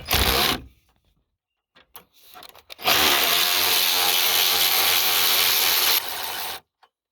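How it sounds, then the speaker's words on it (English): A bolt on a GM vehicle's fuel system area being loosened with a 10 millimeter socket, giving a loud close buzz of a power tool running for several seconds after a few short bursts, with no voices. "I'm back with the 10 millimeter. I'm gonna grab this bolt over here."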